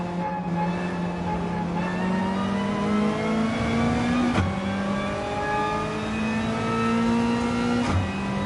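A V8 Supercar engine in Gran Turismo 7 drones steadily at sustained high revs around Bathurst, with a continuous loud tone that climbs gradually, briefly dipping at two gear shifts, and no voices.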